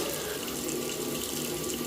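Tap water running steadily into a sink while a man rinses his face, a close, even splashing hiss with no talk over it.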